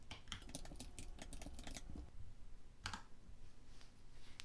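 Quick keystrokes clatter on a computer keyboard as text is typed into Blender, a dense run of close clicks for about two seconds, then a few scattered taps.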